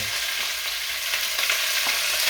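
Pieces of lamb for an Indian restaurant-style curry fry in hot oil while being stirred, a dense continuous sizzle broken by scraping stirring strokes, close and loud, with no talking.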